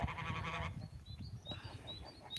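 Mammoth-type geese in a flock honking loudly and close, with a burst of harsh overlapping calls followed by scattered shorter honks and squeaks.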